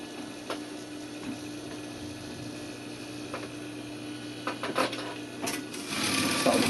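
A sewing machine stitches a back tack on light pocket fabric, a soft mechanical hum with brief clicks that grows louder toward the end.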